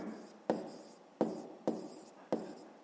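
Pen strokes scratch across a school exercise book during a fifth-grade maths exercise, in regular bursts about every half second to second, each starting sharply and fading, close and alone.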